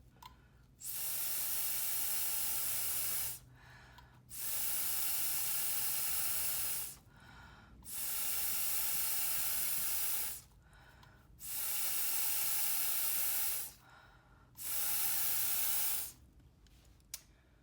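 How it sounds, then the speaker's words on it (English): Five long bursts of ceramic glaze spray hiss, each about two to three seconds, separated by short quiet gaps, close and steady, with no talking. "The tricky part about spraying glaze is knowing how much to put on."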